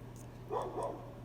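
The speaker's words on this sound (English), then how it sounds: "Oh, doggy next door barking." A neighbouring dog barks twice, a pair of distant, muffled woofs heard indoors over a low steady hum.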